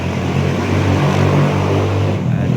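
A passing vehicle revs its engine as it goes by outside, a loud, close rumbling roar that swells and then eases off.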